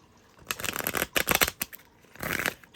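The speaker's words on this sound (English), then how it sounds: "let me shuffle" Tarot cards are shuffled close by in quick riffling bursts, three separate rustling rounds with short pauses between, alone without talk.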